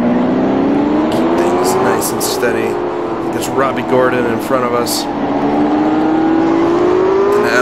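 An IndyCar race car engine in IndyCar Racing II, a loud steady drone whose pitch dips and climbs as the car shifts down, with someone talking over it throughout.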